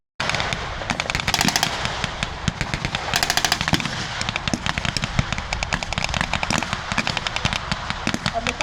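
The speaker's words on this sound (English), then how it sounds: "on the back of the American half-track is a 50-cal machine gun, firing very noisily" A 50-calibre machine gun mounted on an American half-track fires long, rapid, loud bursts at a WW2 battle re-enactment, with constant crackling reports that continue throughout.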